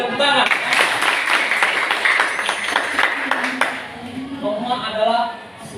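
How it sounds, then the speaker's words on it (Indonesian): A classroom of students claps together for a few seconds, fairly loud and close. The clapping fades out and a teacher's voice follows. "Tepuk tangan"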